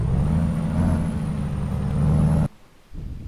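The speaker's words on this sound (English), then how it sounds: "I think this one is the Detroit diesel engine." Peterbilt 389 truck with a Detroit diesel engine in Euro Truck Simulator 2 rumbles loudly and steadily, then cuts off abruptly before a quieter idle resumes.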